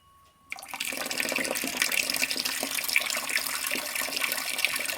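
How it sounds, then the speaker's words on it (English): A gravity-fed spigot on an off-grid water setup is opened after a brief quiet moment, releasing a steady, fairly close stream of water that splashes continuously to the end. "Again, we're going to turn on the spigot."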